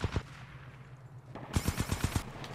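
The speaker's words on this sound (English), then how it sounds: "Oh, frickin' turret." An automated turret in Titanfall 2 opens up with a rapid string of about eight sharp, loud shots after a couple of earlier isolated cracks, close and clear with no talking.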